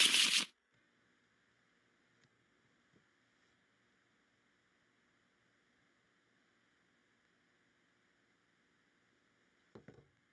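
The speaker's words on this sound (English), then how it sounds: "Shuffle." Arkham Horror game cards shuffled in one brief, loud riffling burst at the very start, followed by near silence and a faint soft handling rustle at the end.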